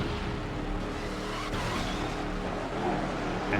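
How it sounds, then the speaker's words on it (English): Muscle car tires squeal in the racing video game Midnight Club 3 DUB Edition, a loud sustained skid over steady engine drone lasting a few seconds without speech. "Driving a muscle car"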